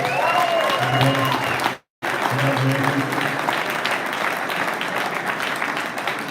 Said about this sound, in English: I want you guys to give this guy a round of applause